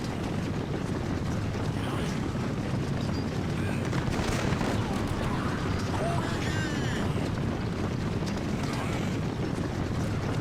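Troops firing volleys of musket-style gunfire in the Total War: Warhammer video game, a dense continuous crackle of shots under wind-like battlefield noise, fairly distant and steady throughout.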